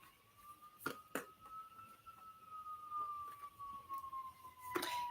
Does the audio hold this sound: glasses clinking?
no